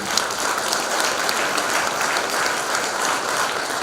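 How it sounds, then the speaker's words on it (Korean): An audience at a lecture in a city hall claps together in sustained, even applause, fairly loud and steady throughout with no speech over it. "거기에 동의하시면 박수를 부탁드립니다."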